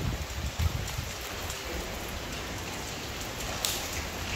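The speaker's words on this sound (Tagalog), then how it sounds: "nabutan na tayo ng ulan" Rain falls at a resort construction site, a steady dense patter of drops on surfaces with a few heavier taps, continuous and fairly close.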